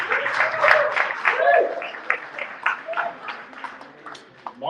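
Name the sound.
audience applause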